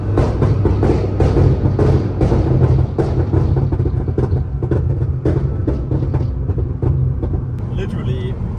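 Interior drone of a 900-horsepower rear-wheel-drive Nissan GT-R R35 cruising on a mountain road, a loud, steady low engine rumble and road roar filling the cabin with little change, with muffled voices underneath.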